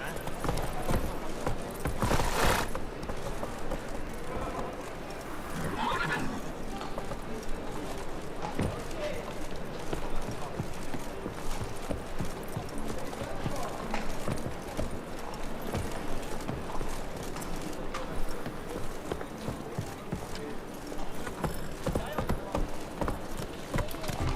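Horse hooves gallop in a fast, steady clip-clop rhythm through the whole stretch in The Witcher 3 video game, loud and close, with occasional game sounds mixed in.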